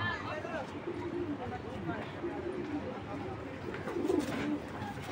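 A big-sized male racing pigeon coos in low repeated rolling calls, close by and moderately quiet, with someone talking over much of it.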